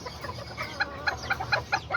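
A young rooster, a Serama or Azteca bantam, clucks and calls in a short series of bright, repeated notes, close by with a steady farmyard hum beneath.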